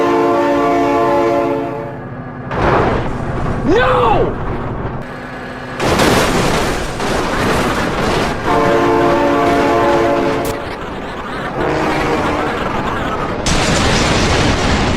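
A train in the BeamNG driving game blasts its horn and rumbles past, with sustained loud harmonic horn blasts broken by heavy booming crashes, while a player shouts excitedly over it.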